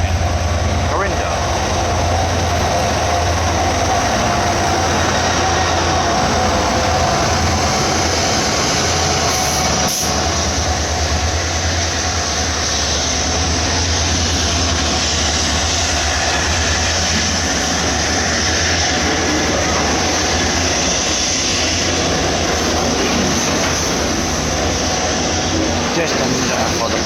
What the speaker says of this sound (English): Coal train, Corinda.